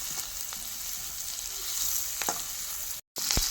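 Cashews frying in a pan as the base for an egg gravy: a steady, close sizzle with occasional stirring clicks, broken by a brief dropout near the end before the hiss resumes.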